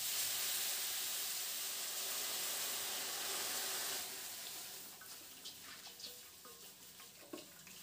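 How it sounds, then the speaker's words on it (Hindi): About 500 ml of water hitting a hot kadhai while oil-free sweet-sour mango pickle is made, a loud hiss and sizzle that fades after a few seconds into faint bubbling and scattered clinks. "एबे हमें कढ़े रे दे देबा 500 ml रो पानी।"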